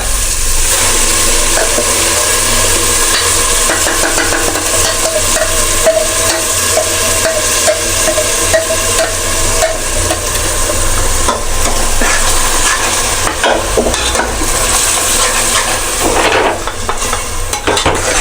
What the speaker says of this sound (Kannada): ಈ ಗ್ರೀನ್ ಮಸಾಲ ಆ್ಯಡ್ ಮಾಡೋ ಟೈಮ್ ಬಂದೇ ಬಿಡ್ತು ಬನ್ನಿ ಇವಾಗ ಆ್ಯಡ್ ಮಾಡಿಬಿಡೋಣ